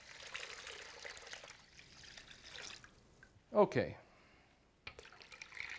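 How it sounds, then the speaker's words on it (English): Cold water is poured into a salt and sugar brine for smoking kokanee fish, a soft splashing trickle that fades out, followed by a short spoken word and faint kitchen clatter. "And then we'll pour in the cold water."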